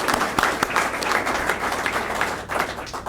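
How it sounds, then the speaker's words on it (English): Applause from an audience at a government workforce-training funding announcement, a dense, steady patter of many hands clapping at once, fairly close and sustained. "So I want to give a round of applause to Stephanie"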